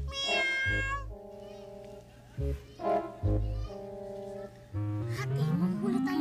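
A cat meows several times in short, plaintive calls, with a voice and other speech-like sounds between the meows.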